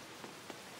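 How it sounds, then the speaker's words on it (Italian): Rain in the Super Mario RPG video game, a steady soft hiss of falling water with two faint, brief drop-like ticks, quiet and continuous throughout. "Piove."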